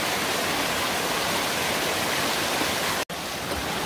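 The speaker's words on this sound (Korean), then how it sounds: "계곡의 수량이 꽤나 많아요" Water rushes steadily through a stream in a moss-covered valley, where trees and rocks are thick with moss. It makes a dense, close, continuous broadband wash, with one sharp momentary dropout near the end.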